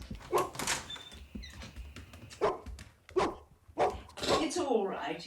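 A small dog barks and yaps in short bursts in a domestic theatrical scene, mixed with people talking over it and a door nearby.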